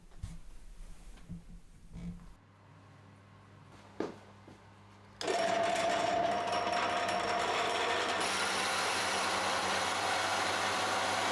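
Holes being drilled into wooden bench top pieces for an MFT-style workbench, a power drill starting with a short burst, then a loud, steady whirring bore that runs continuously for several seconds after quieter workshop handling.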